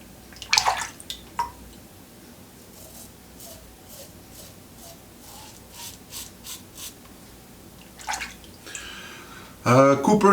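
A Karve safety razor makes its first pass with the grain, giving soft, brief scraping strokes in a quiet room, with a few louder rasps and handling knocks near the end.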